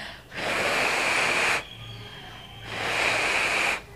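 Two long, forceful blasts of breath blown out hard onto a hand, as in labour breathing practice, each lasting over a second with a short pause between, close and loud.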